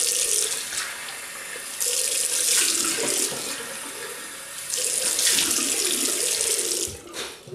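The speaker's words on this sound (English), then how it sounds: "Right, I'll just rinse off." A bathroom tap runs into a sink for a post-shave rinse, steady splashing water that swells louder in two bursts as hands pass through the stream, ending with a brief pause and splash.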